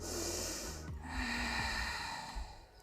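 Deep breathing during a yoga plank session: a close, slow nasal inhale and exhale with a soft, snort-like airy rush, steady and calm with no talking.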